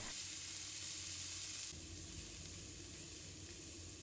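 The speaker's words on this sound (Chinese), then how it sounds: "油热之后，把姜、蒜放入锅中，开中小火把它炒香" Ginger and garlic sizzle in hot oil in a wok over medium-low heat, a soft continuous frying hiss with a quiet shift in tone partway through, no talking.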